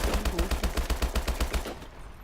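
Rapid automatic gunfire from a high rate-of-fire weapon in Call of Duty: Advanced Warfare on PS4, a fast, loud string of shots lasting under two seconds before cutting off.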